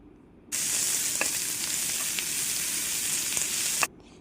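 Ginger garlic paste hits a hot pan for a chicken roll filling and fries with a loud, steady hiss lasting a few seconds, dotted with light stirring taps, then cuts off abruptly.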